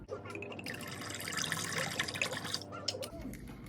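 Liquid poured into a coquito mixture in a kitchen, a steady splashing, trickling pour that runs close and fairly loud for a few seconds before tapering off.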